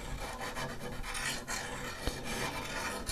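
A diamond file rasps along a scythe blade, a steady close scraping stroke repeated continuously with a brief sharp tick midway, no voices.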